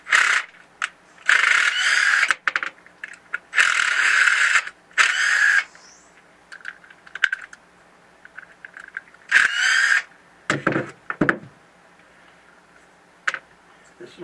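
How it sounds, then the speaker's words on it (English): Power tool removing the mechanical fasteners from a solenoid valve being taken apart, with repeated loud whirring bursts of a few seconds each separated by small clicks and ticking handling sounds. "Again, removing the mechanic fasteners."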